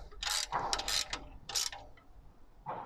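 Wrench tightening the bolts of a GIVI engine guard on a Royal Enfield Himalayan motorcycle, several short bursts of ratcheting clicks separated by brief pauses, close and clear with no talking.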